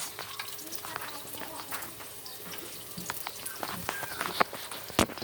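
Tomatoes frying in a pan with onions while cooking pinakbet, a soft continuous sizzle with scattered crackles and pops, close and moderately quiet.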